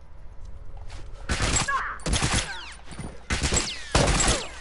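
Gunfire from players in a burst-rifle shooter match: several loud, close bursts of shots in quick clusters, separated by short pauses, with faint background game noise.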